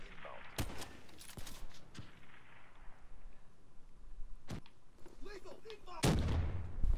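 DBSR-50 sniper rifle firing in Black Ops 3, several sharp, loud gunshot cracks spaced unevenly amid game noise, with a person talking throughout.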